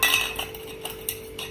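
A spoon stirs egg-based cake batter with chopped dry fruits in a bowl, giving faint, irregular clinks and scrapes against the bowl, a few soft taps spaced out over a steady low hum.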